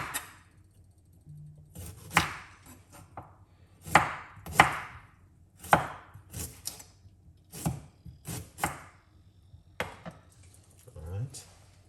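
Knife chopping ginger on a board: a series of sharp, close knocks in uneven bursts, some in quick runs and others spaced apart, with a faint low hum beneath and no talking.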